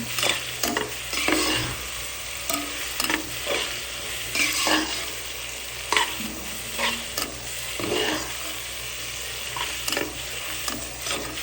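Coconut oil chicken masala with onions and tomatoes sizzles in a pan while a spoon stirs and scrapes it, steady frying under repeated close clattering strokes.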